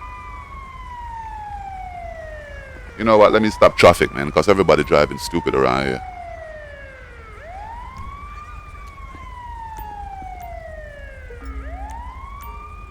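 In the GTA V LSPDFR police game, a wailing emergency siren sweeps up and down through the whole stretch, with someone talking loudly over it partway through.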